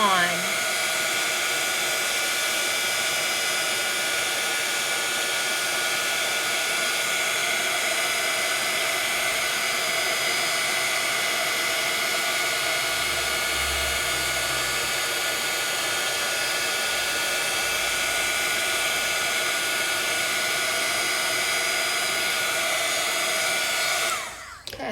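A heat gun melting embossing powder blows a loud, steady roaring hiss of air that runs on almost unchanged, then cuts off at the very end.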